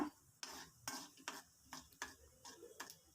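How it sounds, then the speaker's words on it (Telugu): Quiet, rhythmic scraping and clinking of a spoon in a pan, with a faint sizzle of spices frying in hot oil underneath. "ఆయిల్ హీట్ అయ్యాక పోపు వేసుకోవాలి."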